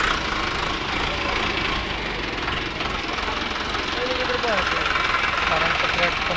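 A 2013-model Eicher 364 two-cylinder tractor idles at a tractor market in Malout, giving a steady, dense mechanical rumble with a knocking beat that runs unbroken throughout while someone talks over it.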